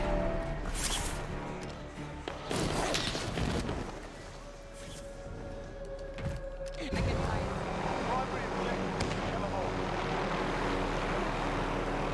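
A helicopter in a video game, its engine and rotor drone running steadily throughout with a tonal whine, mixed with game effects and bursts of nearby speech.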